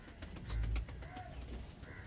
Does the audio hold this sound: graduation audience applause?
no